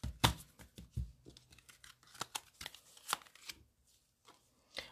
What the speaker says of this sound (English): I'm gonna go ahead and take three cards.